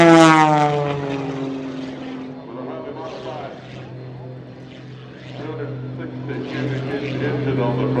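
A small propeller engine, Micron-modified, drones on an MX-2 model airplane flying at an air expo. The pitch slides downward, then hums on steadily while someone talks over it.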